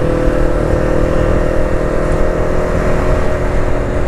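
A Yamaha MT-03 motorcycle ridden casually through Chiang Mai, Thailand, drones with a steady, loud engine hum and wind rush, close and continuous without any talk.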